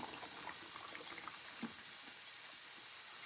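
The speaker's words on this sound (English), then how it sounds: "Let's pour up a deuce. Cheers. Pour up for you guys too." A drink is poured into a cup, making a steady, close liquid splashing and fizzing that runs continuously through the short clip.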